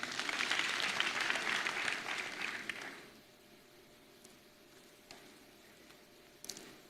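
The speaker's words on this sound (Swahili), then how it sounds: "Wapigie makofi wale." Applause from a crowd at an outdoor political party rally fills the first three seconds as dense, loud clapping, then drops quickly, leaving faint background murmur and a few scattered claps.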